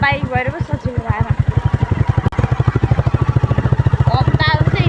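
A motorbike engine thrums steadily at close range with a regular rapid pulse throughout, and a voice speaks over it.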